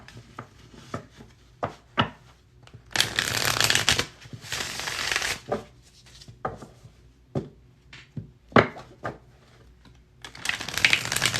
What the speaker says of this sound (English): I'll pull 3 more cards here from a different deck.